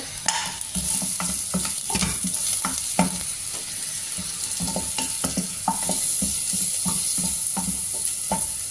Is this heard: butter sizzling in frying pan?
yes